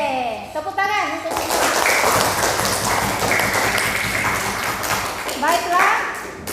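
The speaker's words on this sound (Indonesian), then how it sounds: "Oke, tepuk tangan untuk" Children in a classroom break into several seconds of lively group applause with dense clapping, framed by an adult voice speaking before and after.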